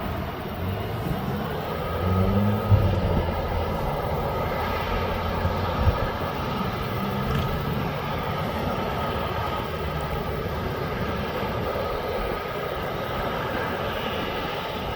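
Aircraft departing East Midlands Airport, a loud sustained jet engine roar heard from the ground, rumbling steadily and swelling slightly early on.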